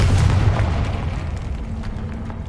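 A Confringo blasting spell detonates in a wizarding game, giving a loud, heavy boom with a deep rumble that fades gradually over a couple of seconds.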